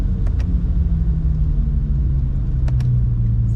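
BMW 135i with N54 engine and 8HP45 gearbox pulling under light throttle, a steady low engine drone with a slowly rising tone and a few faint ticks over it, close and continuous with no talk.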